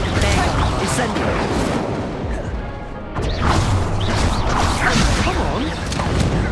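Incendio fire spell cast in Hogwarts Legacy, loud dense roaring bursts and whooshing crashes of flame with impacts, continuous through the clip with a brief dip midway.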